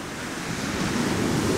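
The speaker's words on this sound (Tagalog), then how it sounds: "Tignan yung lakas ng alon" Strong ocean surf on the Ilocos coast near the sand dunes, rushing and crashing in a steady, loud roar, with a gusty wind-like hiss over the whole stretch and no voices.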